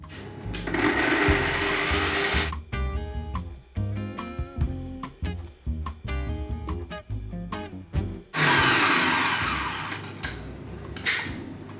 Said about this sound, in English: we're adding it to our electric mixer along with our sugar and cream of tartar